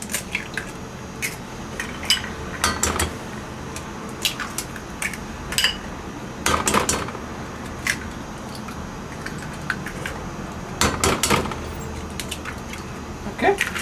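Eggs cracked one after another against a bowl for crème brûlée, with sharp shell taps and small clinks scattered irregularly over a quiet kitchen background.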